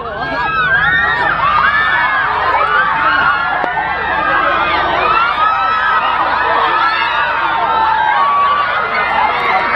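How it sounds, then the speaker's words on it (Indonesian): A large crowd of fans at a music event, shouting, cheering and chattering continuously, loud and dense throughout with excited voices overlapping. "semua orang teriakin dia"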